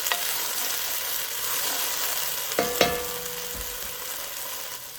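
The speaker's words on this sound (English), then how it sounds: "Now I'm going to start cooking up some onions." Onions cooking in a pan before garlic and tomato sauce go in for a homemade marinara: an even, close sizzling hiss, broken midway by two quick clacks of a utensil against the pan.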